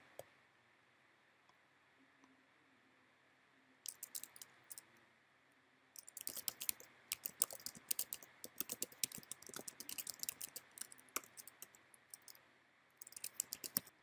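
Quiet clatter of typing on a computer keyboard while code is written, first a few scattered clicks, then a steady burst of quick keystrokes with short pauses, close and alone.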